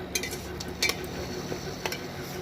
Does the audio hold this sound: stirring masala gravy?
yes